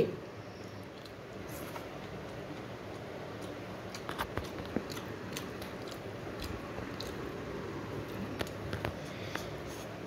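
Pakhala rice eaten with okra, with soft intermittent chewing and small crunches close to the mic over a quiet background.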